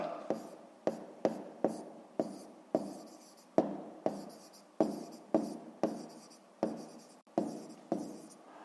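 A pen writes numbers in a notebook during a math exercise, with a close, quiet series of sharp taps and short scratchy strokes in an irregular rhythm.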